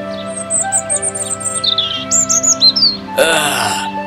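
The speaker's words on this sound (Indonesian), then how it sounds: "Kau burung kecil." A small bird chirps in a quick series of high, bright tweets, close and clear over soft orchestral music, closing with a brief flutter of sound.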